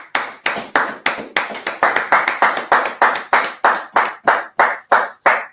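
A small group claps together in a steady, quick rhythm, each sharp clap distinct and close, carrying on for several seconds with no talking.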